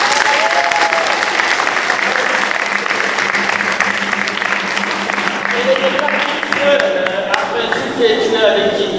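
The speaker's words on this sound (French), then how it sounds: "Vous pouvez l'applaudir." A church congregation at a youth closing Mass claps loudly and steadily, dense close applause with voices heard through it in the latter half.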